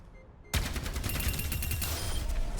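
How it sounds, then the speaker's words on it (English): Orisa's weapon fires in the training range of the Overwatch 2 game. The fire is a loud, sudden, rapid stream of close gunshots that starts after a short quiet moment and keeps going without a break. "you're just shooting training balls in the training range"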